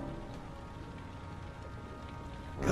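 Steady rain falling in the video game Heavy Rain, a continuous soft hiss of drops on surfaces with no talk, swelling louder briefly at the very end.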